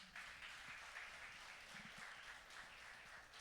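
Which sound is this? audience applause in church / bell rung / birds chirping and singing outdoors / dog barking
audience applause in church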